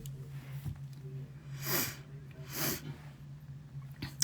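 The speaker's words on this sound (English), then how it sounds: "Sorry, I'm sneezing." Two short, breathy sneezes from a woman about a second apart, close by, over a steady low hum.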